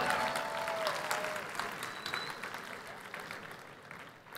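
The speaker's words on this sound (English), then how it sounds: "Give yourselves a round of applause." A large audience of about 20,000 people at a Campus Party tech event applauds, a broad wash of clapping that starts strong and gradually fades, heard fairly distant and alone.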